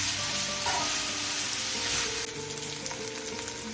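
Ground beef sizzles and fries in a pan for nachos, a steady, close crackle that runs the whole time with faint clinks of stirring.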